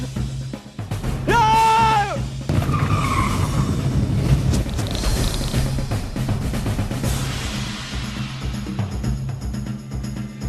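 A car on a road brakes hard, its tyres letting out a loud, sharp squeal that rises and falls briefly, followed by a rough rumbling of engine and road noise that slowly fades.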